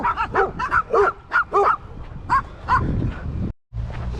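Dogs bark repeatedly in short, sharp bursts, several close together, then fall quiet as low rumbling background noise takes over, in downtown Plainfield.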